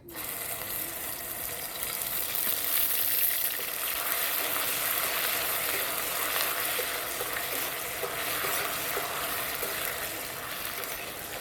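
Ground chili paste hits a pan of caramelized sugar and fries with a loud, steady crackling sizzle that keeps up evenly from start to finish, close and dense, with no voices.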